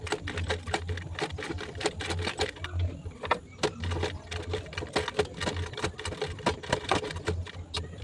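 A sewing machine back-stitching a bag panel, rapid mechanical needle clatter running in bursts with brief pauses between, close and steady with no talk.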